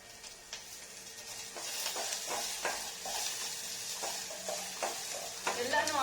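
Garlic, coriander seeds and six or seven dried red chillies fry in a pan for a red chutney, with a soft continuous sizzle broken by repeated scraping stirs of a spoon, close and fairly quiet.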